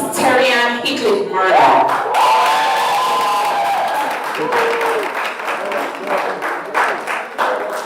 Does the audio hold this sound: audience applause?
yes